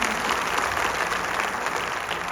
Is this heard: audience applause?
yes